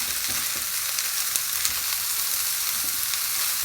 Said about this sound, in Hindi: अच्छे से अब हमने इसको ना मिक्स कर लेना है और इसको थोड़ा ना भून लेना है।